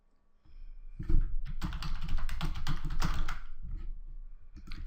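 Keys on a computer keyboard are typed rapidly to enter login details, a dense, close burst of clicking that continues steadily for several seconds.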